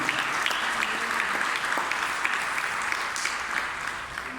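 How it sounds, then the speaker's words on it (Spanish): A church congregation applauds during a Sunday school worship service, with dense, steady clapping from the whole room throughout. "denle un aplauso al Señor, grande"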